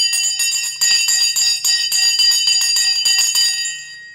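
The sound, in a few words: stock market closing bell ringing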